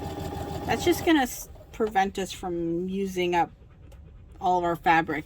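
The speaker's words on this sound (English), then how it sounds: "If you can hear my dog, he's panting right now." A dog panting in a sewing room, quick soft breaths running faintly beneath a person talking close by throughout.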